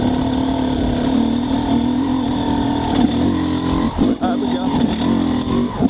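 XTNG GEN3+ 36 motorcycle engine pulling steadily in second gear without the clutch, a continuous loud droning hum with brief dips near the end, while someone talks over it.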